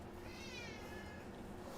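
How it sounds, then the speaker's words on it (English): Cat meowing faintly in a quiet indoor space, a single soft, drawn-out call under low background noise. "There's a cat that has adopted me"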